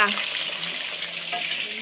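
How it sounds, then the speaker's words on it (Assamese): Small local fish fry in hot oil with a dense, close, continuous sizzle and crackle, steady and unbroken for the whole short stretch. "আমি মাছ ভাজি আছো দেই"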